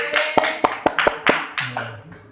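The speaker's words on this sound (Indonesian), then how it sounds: "tepuk tangan buat Nadia dong" A high school class claps for a student during a poetry writing lesson: a handful of sharp, separate claps at an uneven pace, close and fairly loud, followed by a brief voice.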